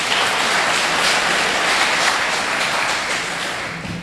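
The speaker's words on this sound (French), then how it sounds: "Vos acclamations, s'il vous plaît." Audience at a general assembly of municipal treasury agents breaking into applause, a dense, steady wash of clapping that holds for the whole stretch and eases slightly near the end.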